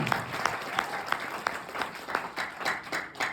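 Audience applause at a network marketing success seminar, a brief burst of clapping from a crowd heard at moderate distance, with sharp individual claps standing out in an uneven rhythm.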